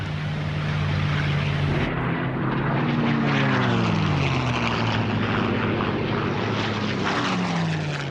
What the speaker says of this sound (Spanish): 450 cazas despegaron de inmediato para interceptar a los aviones japoneses